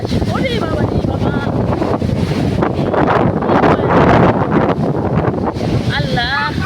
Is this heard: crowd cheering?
no